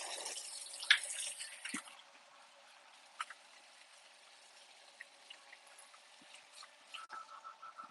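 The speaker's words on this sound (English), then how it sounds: "I'm gonna wash the hands again." Hands are washed under a running kitchen tap while cooking for family: a bright, hissing stream pours strongly at first, then drops away to faint drips and trickles with occasional small splashes, and no one speaks.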